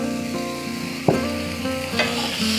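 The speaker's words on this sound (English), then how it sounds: "And I'll keep deglazing the pan. Add some more oil" Coq au vin is deglazed in a pan with oil and wine, giving a steady close sizzle with a sharp scrape near the middle and a lighter scrape later.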